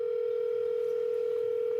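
A steady single-pitch tone plays on an outgoing phone call as it waits unanswered, continuous and unbroken with no other sounds.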